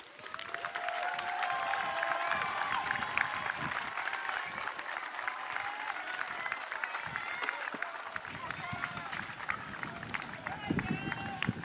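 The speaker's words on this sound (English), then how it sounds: "I invite you now to turn around, look their way, and applaud them for all their support" Applause from a large crowd of graduates at a Southwestern College commencement ceremony, a steady dense wash of clapping lasting throughout, with faint voices mixed in.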